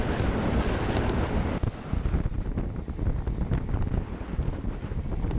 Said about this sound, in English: Yeah, you can hear that wind